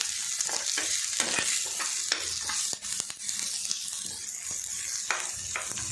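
Cashews sautéing with ginger and garlic in a pan give a bright, continuous sizzle, peppered with quick crackles and soft stirring scrapes, close and steady throughout.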